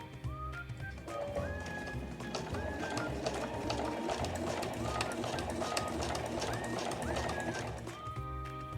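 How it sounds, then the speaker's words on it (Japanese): Sewing machine stitching along the edge of an A4 flat tote bag, a continuous fast mechanical whirring with rapid needle clatter, close and steady, with a few brief squeaky tones over it. "続けて際を縫っていきます。"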